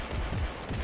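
Gunfire from a newly equipped gun in the video game Cyberpunk 2077: a short, loud, rapid burst of shots that fills under a second.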